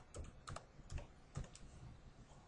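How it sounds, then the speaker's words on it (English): Quiet, close typing on a computer keyboard, a handful of light key clicks in an irregular rhythm with no talking. "I want to click in this space above and type in the word finish."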